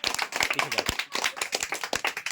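Children in a classroom clap in quick, sharp, slightly uneven bursts, near and fairly loud, a small group rather than a large crowd.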